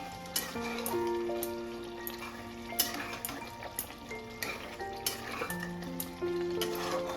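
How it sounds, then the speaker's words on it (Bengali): Chicken curry (murgir jhol) slowly sautéing in a pan, a steady close sizzle of frying oil punctuated by repeated clinks and scrapes of a spoon stirring against the metal, with no voices. "এইভাবে আমি কষাতে থাকবো দেখুন আমি আস্তে আস্তে"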